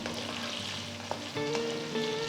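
Shallots fry in a pan over a medium flame with a soft, steady sizzle, with a light clink or two of stirring partway through and no voices.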